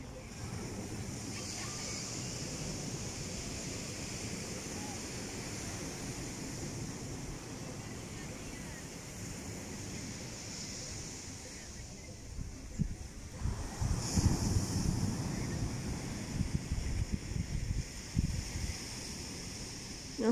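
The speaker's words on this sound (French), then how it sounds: "Donc les vagues sont assez fortes." Strong sea waves on a pebble beach produce a continuous wash of surf mixed with wind buffeting the microphone, with heavier surges and rattling swells rising toward the latter half.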